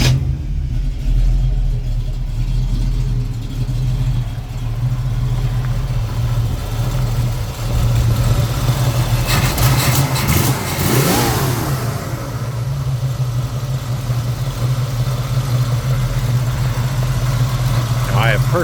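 A 1965 Ford Mustang coupe with a 289 V8 and automatic transmission runs at a steady, loud idle, then revs up briefly near the middle before settling back to idle. A voice can be heard over the engine.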